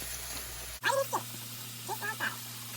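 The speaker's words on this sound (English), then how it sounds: "I'm gonna start dropping my cabbage right in here" Shredded cabbage drops into a hot pan while cooking steak, cabbage, rice and cornbread, setting off a steady broadband sizzle that begins abruptly and carries on under a person talking.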